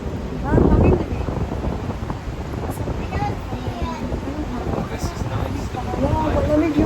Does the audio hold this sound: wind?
yes